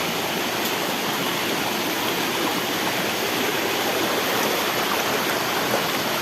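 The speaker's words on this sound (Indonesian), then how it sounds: "Kita menuju curug atau air terjun" A waterfall roars in a constant, dense rush of water, loud and unbroken throughout.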